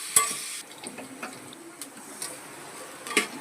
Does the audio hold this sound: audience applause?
no